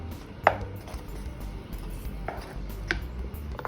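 Thickening maja blanca mixture stirred in a pot, with a few scattered spoon knocks and scrapes against the metal over a quiet background.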